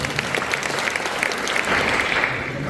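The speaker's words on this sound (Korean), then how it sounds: "우리 따뜻한 박수로 환영하도록 하겠습니다." Warm audience applause welcoming a pastor at an anniversary worship service for a Korean-American gospel broadcaster, continuous dense clapping from a congregation at moderate level.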